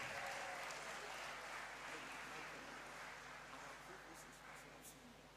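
Applause rises in a ceremony hall to greet the Ghana Dance Ensemble at a School of Pharmacy white coat ceremony, a steady wash of clapping that slowly thins over several seconds, with faint talk underneath.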